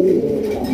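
Raj Golla pigeons cooing at close range, a continuous low throaty murmur lasting under a second, fairly loud and free of talk.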